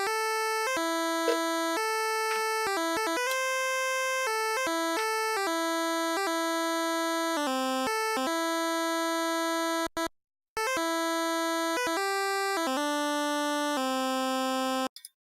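Harsh chiptune track built from copypasta letters converted straight into music notes with no editing, giving a buzzy square-wave melody that jumps between sustained notes, with a brief dropout near the end and no voices.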